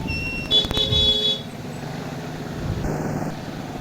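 Car horns toot in a jammed, narrow single-lane village road on the slopes of Sumbing near Magelang, a few sharp honks over a steady idling traffic rumble.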